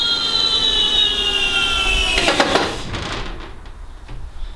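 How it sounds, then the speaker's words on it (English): A homemade solar car's rear brake is tested: a steady whining motor tone slides down in pitch, then cuts off into a brief broadband scrape or squeal of braking before the sound fades to quiet. "So you heard that, the rear brake works, which is pretty cool."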